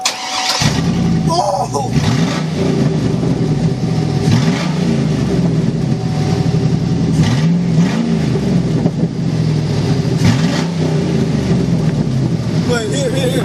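A Hummer H2 with its muffler removed starts and revs, a loud raw exhaust rumble rising and falling in repeated throttle blips close by, with people talking and exclaiming over it.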